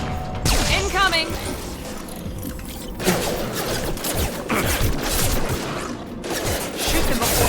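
Dense, continuous bursts of gunfire and mechanical clatter from a battle in the video game Mass Effect 2, with hostile mechs attacking, loud and busy throughout, with voices talking over the fight.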